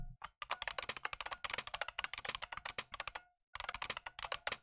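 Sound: Bucklespring simulated IBM Model M keyboard typing sounds

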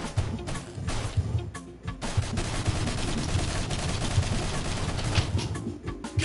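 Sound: gunfire in the video game Mercenary Kings

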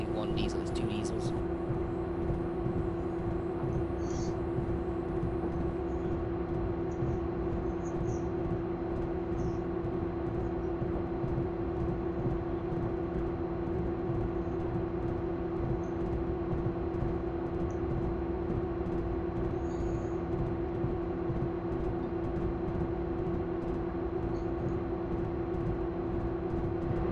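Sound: diesel train engines running, Railworks video game

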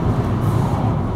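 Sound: bus passing on the road

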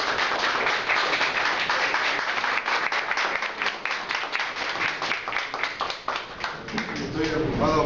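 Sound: applause at art exhibition

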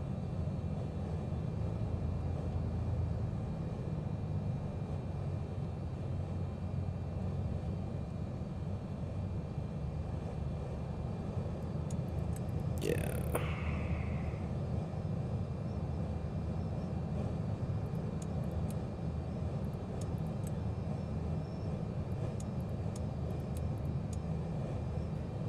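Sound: airplane taxiing in Microsoft Flight Simulator video game

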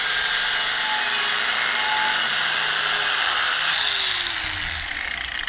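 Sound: angle grinder with sanding disc

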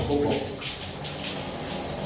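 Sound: shower running water

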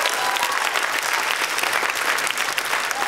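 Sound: audience applause

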